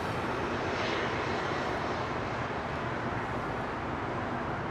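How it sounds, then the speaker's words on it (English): A Spirit Airlines Airbus A320 jet at LAX makes a continuous, broad engine rumble and rush, fairly loud and even throughout, with a faint wind-like hiss and no speech. "Here's another Spirit A320."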